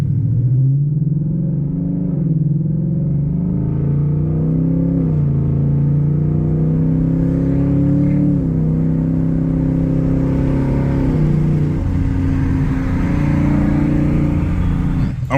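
A 2024 Ford S650 Mustang GT with an aftermarket exhaust rumbles steadily, close and loud, its deep engine note rising and falling through several gentle revs and gear changes over a continuous drone.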